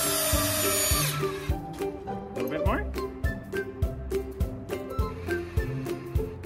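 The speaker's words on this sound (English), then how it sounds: "Use the drill to put in the screws." A power drill whirs in short bursts, with repeated clunks and taps of screws going in, over background talk and clatter.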